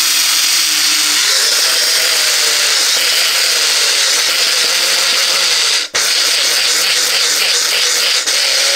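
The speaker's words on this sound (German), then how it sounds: "Das wird im kleinen Mixer gehäckselt." A small kitchen mixer whirs steadily as it chops golden flaxseed, a loud, continuous buzzing grind whose pitch shifts slightly partway through, with a brief dropout before the motor resumes.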